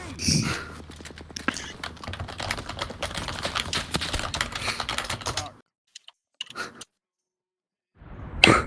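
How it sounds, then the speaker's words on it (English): Fast, furious typing on a computer keyboard, a steady dense clatter for several seconds, then a brief silence with a few isolated clicks and a short burst at the end. "Jesus Christ, you're furiously typing."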